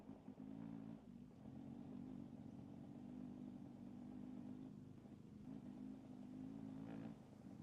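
Generator engine droning steadily nearby in a survival game, a low continuous hum with slight swells and dips, heard alone without talk.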